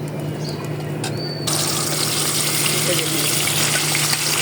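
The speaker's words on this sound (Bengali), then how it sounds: "আমি মাছটাকে ভেজে নিতেছি" Small jatka hilsa fish frying in oil, a dense close sizzle that jumps louder at about one and a half seconds as the fish go in, continuing steadily over a low hum.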